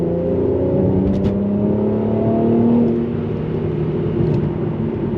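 A Mercedes-AMG C43 coupe accelerates hard under heavy throttle, its engine note climbing steadily in pitch from inside the cabin, loud and continuous with rising harmonic whine, then easing off slightly near the end.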